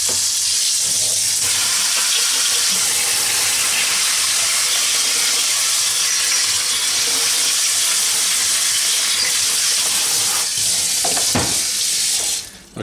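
Tap water pours steadily into a sink, rinsing an arcade monitor chassis in a loud, continuous rush that cuts off just before the end.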